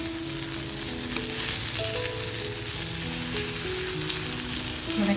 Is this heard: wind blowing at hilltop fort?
no